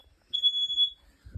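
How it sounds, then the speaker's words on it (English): A home smoke alarm gives a single shrill, piercing beep lasting under a second during a fake fire test, close and clear in an otherwise quiet room. "the fire alarm's gonna go off"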